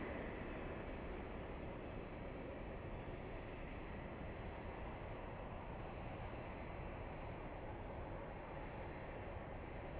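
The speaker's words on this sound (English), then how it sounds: "We have the Japanese 787 Dreamliner. This one flying in from Narita." A Japan Airlines Boeing 787 Dreamliner arriving from Narita, a steady broadband jet roar that holds even and fairly loud throughout with no talk over it.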